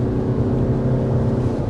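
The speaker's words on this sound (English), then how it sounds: "This hybrid model comes with an eCVT." A 2025 Lexus RX hybrid with an eCVT powertrain, heard from inside while driving, gives off a steady, even low hum that holds at one level throughout with no talk over it.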